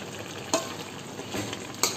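Raw jackfruit curry is stirred in a pan, with a steady sizzle underneath and a few sharp scrapes of the spoon against the pan, close and fairly loud, without talk.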